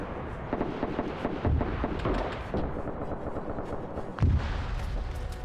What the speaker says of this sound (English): Yeah, so they're shelling this pretty hard.